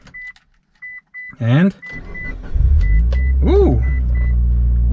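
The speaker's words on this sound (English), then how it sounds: "So let's see how she starts up." Mitsubishi Lancer Evo 9 MR starting up: repeated warning chimes, then a rising starter whine as the engine catches into a steady close idle rumble, with a brief spoken exclamation over it.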